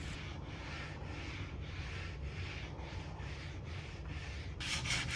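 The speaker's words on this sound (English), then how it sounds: "grabbed that 120 grit sandpaper again to smooth down the wood filler" Sandpaper of 120 grit rubbed over wood filler on a Lane cedar chest, a steady close scratchy rasp in repeated back-and-forth strokes, with a brighter harder pass at the end.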